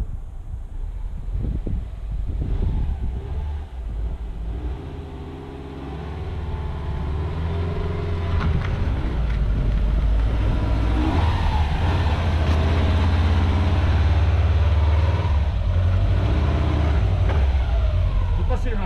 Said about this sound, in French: Moi, je suis obligé de donner du gaz.